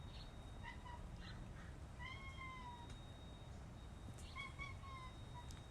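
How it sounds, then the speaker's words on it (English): Tiger cat meowing nearby, several soft drawn-out meows spaced across a quiet room with low background hiss. "This cute tiger cat is next to me."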